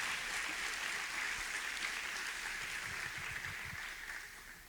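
A church congregation claps together at a service in a dense, steady wash of applause that fades out toward the end.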